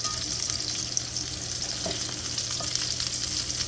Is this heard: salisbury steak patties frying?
yes